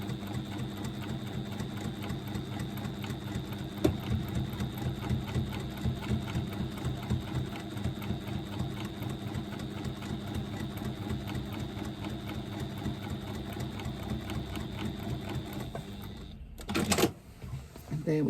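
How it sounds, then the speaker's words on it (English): A sewing machine top stitches a fabric panel in a steady, rapid mechanical chatter that runs for most of the time and stops near the end, with a person talking over it. "I'm just top stitching on that bottom panel 1/8 of an inch away from the fold"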